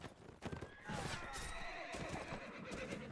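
A horse neighs loudly in the Mount and Blade Warband video game, a shrill whinny rising and falling over a battle scene with scattered hoof clatter and background clashing.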